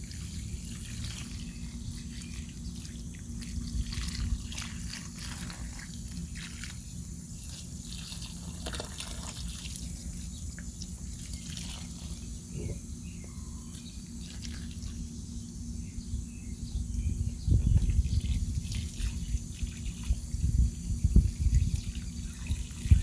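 Water pours steadily from a hose onto garden plants in pots, a continuous low rushing splash that swells louder toward the end, with no talking.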